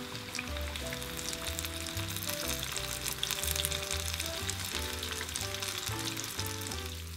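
Fish katsu fries in hot oil with a steady, dense crackling sizzle that runs the whole time beneath background music with a plodding bass line.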